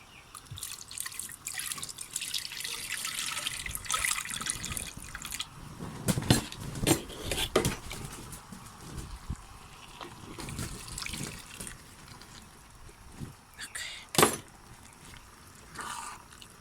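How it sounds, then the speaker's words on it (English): Water drips and splashes into a cooking pot in irregular bursts in a tent kitchen, with a brief louder pour near the end; close by and fairly quiet, no talking. "I'm just gonna add some water to"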